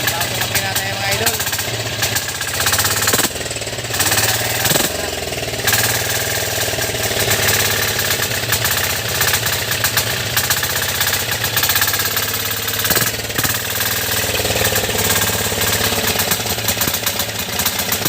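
A new boat engine running steadily on a bangka, a loud continuous mid-pitched drone with a knocking, idling character, with people talking over it.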